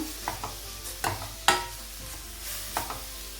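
Grated carrots frying in a pan over high flame for carrot halwa, heard as a few sharp spatula scrapes and stirs over a faint steady sizzle, with no talking.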